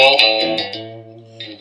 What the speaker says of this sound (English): right now we're going through a Fender Twin simulation with basically nothing on it but maybe a little reverb